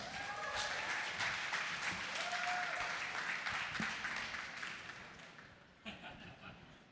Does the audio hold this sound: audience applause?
yes